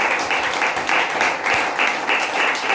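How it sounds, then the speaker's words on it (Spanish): A church congregation claps in strong, regular rhythmic bursts during a worship service, loud and close, continuing without pause. "Dele fuerte ese aplauso al Señor."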